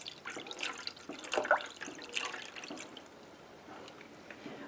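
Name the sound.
pouring a cup of water into gravy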